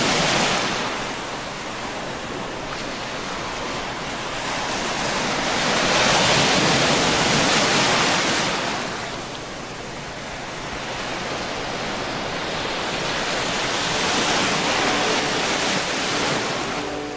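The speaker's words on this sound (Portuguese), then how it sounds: "E o barulho do mar." Sea waves roll onto a beach of fine white sand at the end of a trail, a steady broad surf wash that swells and fades in slow surges, with no voices.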